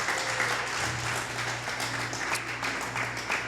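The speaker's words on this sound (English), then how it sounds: "Round of applause for Rob." An audience gives a round of applause at an art talk on hip hop, the clapping steady and fairly close, lasting throughout without pause.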